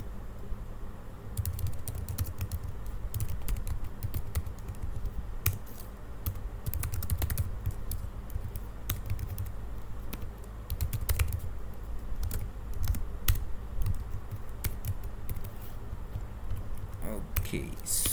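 Rapid, uneven keystrokes on a computer keyboard as C++ code is typed, close and steady throughout with short pauses between bursts of clicks, over a low room hum.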